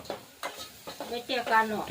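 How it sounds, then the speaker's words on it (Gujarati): Potatoes sizzle in a hot oil tempering in a home kitchen while being stirred, with short scraping and frying bursts close by and faint tonal sounds between them. "બટાટાનો વઘાર ચાલુ છે"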